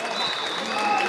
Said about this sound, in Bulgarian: Чувате, ямбулската публика няма да спре